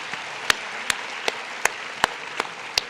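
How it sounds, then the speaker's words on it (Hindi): Sparse, evenly spaced single claps, about seven sharp hits in three seconds, from a small group at a motivational session where children are asked to clap for their teachers; no voices. "इस खुशी में तालियां बजाइए बेटा।"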